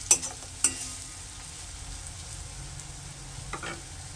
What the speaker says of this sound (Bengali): পেঁয়াজের সাথে মশলাগুলো ভালোভাবে একটু কষিয়ে নেবেন